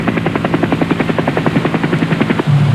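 A military helicopter flying at about 70 knots gives a loud, close, rapid rhythmic rotor chop over a steady engine whine, alone and unbroken.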